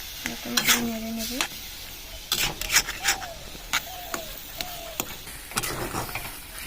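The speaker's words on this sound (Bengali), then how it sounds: "এরকম করে নেড়ে নেব।" Semolina toasted in a pan is stirred after water goes in, for gulab jamun, giving scattered scraping strokes and faint sizzling with short squeaky spoon scrapes in between.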